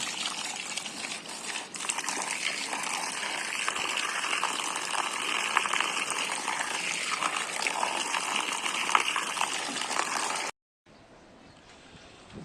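Water gushing to wash out a dirty pigeon nest cage, a steady close splashing spray that runs continuously, then cuts off abruptly near the end.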